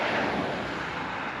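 Traffic noise beside Route 30 near Gettysburg, a steady broadband roar of passing cars with a faint high whine, holding fairly constant and with no voices.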